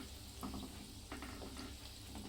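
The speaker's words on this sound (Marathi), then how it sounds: "तर बघू शकता मी आता हे दालवडे पलटी मारून घेते" Dal vadas frying in hot oil while being flipped, a steady low sizzle with a few soft splashy bursts as each fritter turns over, close and fairly quiet.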